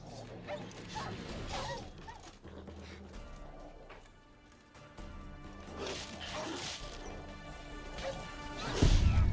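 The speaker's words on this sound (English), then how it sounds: "Get these freaking wild dogs." Wild dogs attack in The Witcher 3 video game: snarling barks, yips and whimpers come through amid repeated thwacks and crashing combat hits, ending in a loud impact, all set against game music.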